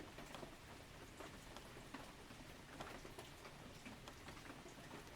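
Steady rain patters on a surface for an ASMR stream, a dense, even hiss of drops with small taps scattered through it, fairly quiet and uninterrupted, with no voices.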